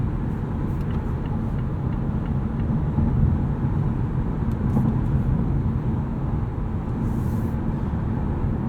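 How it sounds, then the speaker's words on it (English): Steady low road rumble and soft wind hiss fill the cabin of a 2018 Mazda6 Signature cruising at highway speed, an even, subdued drone with no talking. "So as you can probably hear, not a lot of wind noise, not a lot of road noise from the tires."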